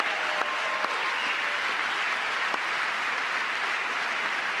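Steady, loud applause mixed with cheers fills a big chamber at the State of the Union, with a few sharper claps and shouts rising out of the continuous roar.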